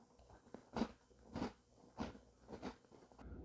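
Close, crisp crunching of a crunchy snack being bitten and chewed, with four or five distinct crackly bites in an uneven rhythm and no talking.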